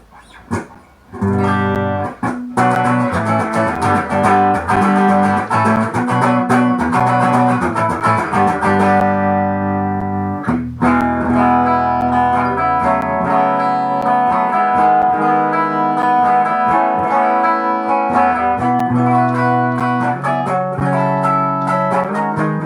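A Rickenbacker electric guitar through its HB1 humbucker pickup plays sustained clean chords and single notes, ringing loudly with a brief pause partway before continuing.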